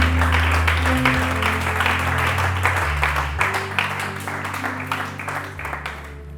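Congregation at a church service clapping and cheering in sustained applause, loud and close, continuing for several seconds before fading slightly toward the end.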